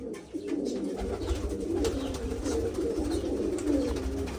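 Pigeons cooing in a loft of racing birds, soft repeated throaty coos blending together at close range over a low steady background hum.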